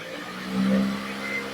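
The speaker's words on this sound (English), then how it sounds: "Now, let's rev it up a little bit." A parked car with a lit check engine light and a drivability fault gets a short, moderate rev, its engine note swelling briefly and then settling back to idle.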